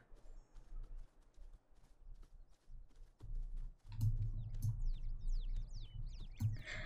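Horse hooves clip-clop in a steady running rhythm in The Sims 4, quieter at first and then louder and closer, with faint bird calls and soft game ambience around them.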